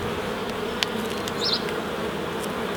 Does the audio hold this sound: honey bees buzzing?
yes